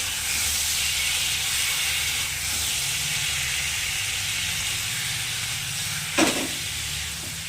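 Curry broth with boiled chickpeas and taro and a pinch of sugar bubbles in a pot on high heat, a steady close hiss and simmer with one brief sharp clatter partway through.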